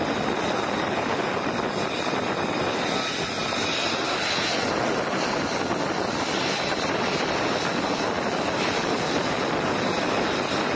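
An F-35C fighter jet on approach to an aircraft carrier for landing gives off a steady, broad roar of engine noise that holds evenly for the whole stretch, with no voices.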